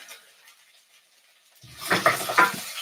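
After a near-silent start, a wooden spoon stirs through a pot of vegan Hungarian goulash, giving close, soft scraping and clinking that grows louder toward the end.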